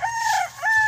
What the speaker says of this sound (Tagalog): Puro manok yan dito, guys. Yan, panabong.